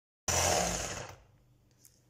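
An electric mixer starts abruptly and whips eggs and sugar to a foam for about a second, whirring loudly up close, then winds down quickly and fades to quiet.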